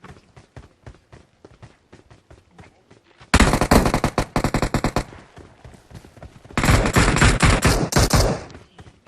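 Gunfire in a shooting video game, rapid bursts of automatic fire and single shots, loud and close, with a steady patter of footsteps between volleys.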